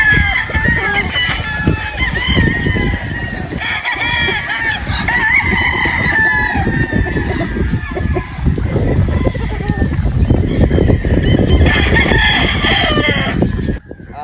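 A lemon sweater game fowl pullet at a game farm. Close, loud clucking and crowing goes on throughout, with rooster calls repeating over steady barnyard noise and a faint voice now and then.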